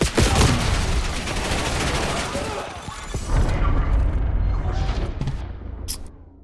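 Rapid bursts of gunfire from the Call of Duty Black Ops 7 video game crackle loud and dense through the whole stretch, with a brief dip midway and a tail of scattered sharp shots near the end.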